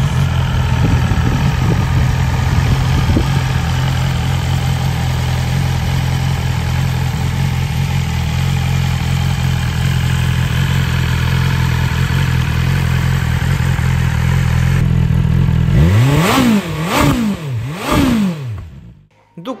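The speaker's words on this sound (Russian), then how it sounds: "У него тот же двигатель, что и у спортбайка, это 955-кубовый Super Quadro L-Twin." A Ducati Streetfighter V2 with its 955cc Super Quadro L-Twin engine idles with a steady throbbing rumble, then revs sharply several times in rising and falling bursts before cutting off.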